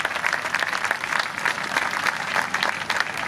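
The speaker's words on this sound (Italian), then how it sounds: "E quindi facciamo un applauso alla Notte della Taranta" Crowd applause at a Notte della Taranta festival event in Taranto, steady dense clapping from an audience that holds at an even level throughout.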